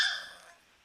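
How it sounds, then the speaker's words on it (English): Dog barking in the background, a single short bark that fades quickly into a soft tail, heard alone at moderate distance. "I apologize for my dog is barking in the back."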